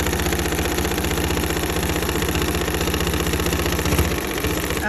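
An M7 sewing machine stitches a fabric hanger cover with a continuous, even mechanical hum and a fast rhythmic pulse. It is close and loud throughout, with no voices.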